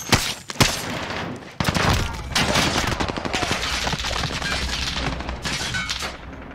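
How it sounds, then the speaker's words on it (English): Heavy gunfire in a Call of Duty match, with dense bursts of automatic fire and sharp cracks running almost continuously and loud, along with a few brief voices. "Nice shooting there, Green."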